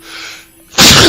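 A single sudden human sneeze bursts out loud and close after a quiet moment, short and sharp with no talking around it.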